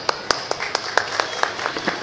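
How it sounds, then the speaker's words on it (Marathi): Evenly spaced, sharp claps ring out about every quarter second, like a small audience at a ceremony beating out rhythmic applause, fairly close and loud. "जोरदार टाळ्या वाजवा प्रेक्षक हो."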